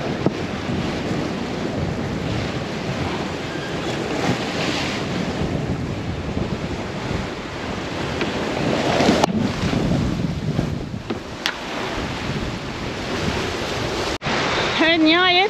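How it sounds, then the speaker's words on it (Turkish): Sea waves slosh and wind roars steadily across the microphone aboard a small sailboat off a rocky cape on a breezy day, the broadband rush continuous and close throughout, with a few sharp knocks and a brief whistling sweep near the end. "Çünkü dalga büyük ama rüzgar tazeledi."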